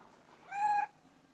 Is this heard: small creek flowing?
no